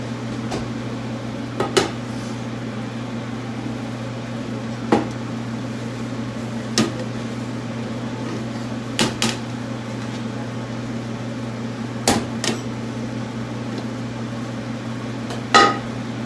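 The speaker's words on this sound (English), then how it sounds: "Let's get the oven going" A kitchen oven hums steadily as it runs, a constant low drone with scattered light clicks and clinks of dishes and cupboards nearby.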